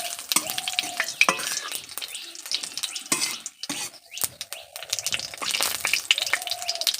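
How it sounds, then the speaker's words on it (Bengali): Whole spices — cinnamon, cardamom, cloves and bay leaves — sizzle in hot oil in a pan while a spoon stirs and scrapes them, with clinks against the metal and crackling frying throughout, close and fairly loud. "গরম মশলা দিয়ে দিলাম, দারুচিনি, এলাচ, লবঙ্গ দিয়ে একটু ভালো করে নেড়ে নেব।"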